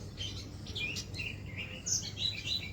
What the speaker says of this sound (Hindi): आप चुपचाप चिड़ियों की आवाज़ सुनिए